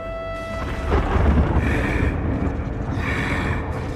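Thunder with lightning in the video game The Banner Saga 2, a deep rolling rumble that swells and sustains over a few seconds, loud and low, with faint tonal game ambience above it.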